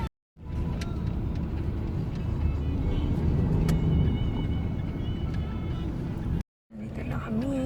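Traffic on EDSA rumbles from inside a vehicle, a continuous low engine and road drone with faint passing sounds, broken by two short silent gaps at the start and near the end.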